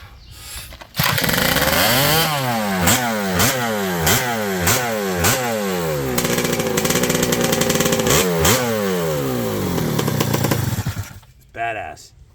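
A chainsaw powered by a 1997 Yamaha YZ250 two-stroke dirt-bike engine, rated at roughly 40-plus horsepower, screams loudly and close up through repeated rising revs as it rips into wood, then winds down at the end.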